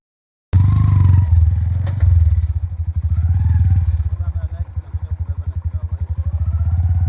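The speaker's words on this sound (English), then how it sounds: "The mode of transport, motorbike." Motorbike engine running steadily during a ride on a rough road, loud and close, with a pulsing throb that picks up after a brief drop near two seconds; talk is faintly audible over it.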